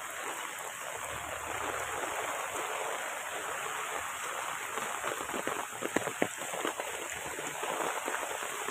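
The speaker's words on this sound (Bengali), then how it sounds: "প্রচুর বৃষ্টি পড়তেছে, প্রচুর বৃষ্টি।" Heavy rain falling steadily, a dense wide hiss of drops with occasional closer patters, continuous and even throughout.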